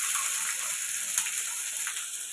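Chopped onions frying lightly in a pan on an induction cooker, giving a steady, soft, close hiss that runs on without a break and with no voices.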